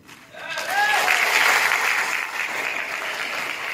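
An audience at a motivational speech breaks into steady applause, dense sustained clapping that swells quickly and holds near and loud, with a brief voice at the start.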